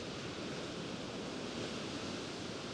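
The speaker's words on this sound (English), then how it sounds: "you can see the waves crashing up against the rock." Ocean waves crash against rock along a rugged coastline in a state park, a steady broad roar of surf filling the scene without any talk.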